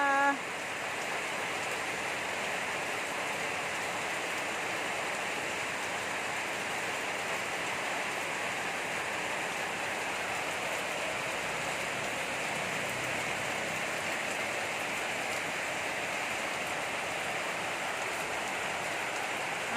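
Rain pours down in an unbroken wash of drops striking surfaces, a uniform mid-level hiss that stays constant from start to finish with no voices standing out.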